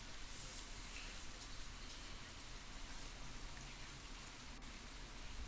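Steady rain falls over an evening soccer match under the lights on turf, an even, continuous hiss of drops spread across the whole stretch, moderately loud with no talk.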